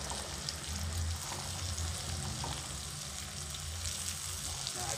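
Prawns frying in hot oil, a steady close sizzle with a low bubbling rumble running evenly throughout, no voices.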